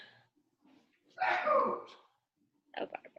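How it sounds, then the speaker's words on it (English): A single person sneezes during an online video call, one brief loud burst caught by the microphone, set apart by quiet breathing and faint murmurs before and after. "just sneezed and it was like an earthquake"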